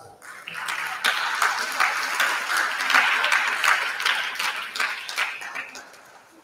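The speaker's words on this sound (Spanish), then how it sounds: "Recibamos un nuevo aplauso." Audience applause at a geology and mining research presentation, a moderate, steady wash of clapping from a hall crowd that swells and then tapers off.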